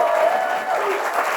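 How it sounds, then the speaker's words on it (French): Brief burst of audience applause for contestants at a Bible quiz semi-final, steady clapping with crowd murmur under it. "Les candidats, on peut les applaudir bien fort"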